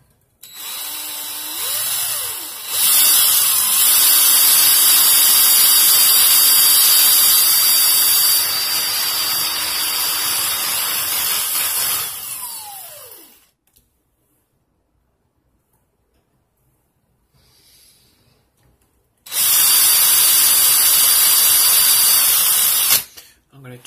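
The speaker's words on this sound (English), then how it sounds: "I'm going to put my drill in clockwise" A cordless drill spins steadily to twist 38-gauge wire around 24-gauge wire for a fused clapton vape coil, a loud continuous whir in two long runs separated by a quiet gap.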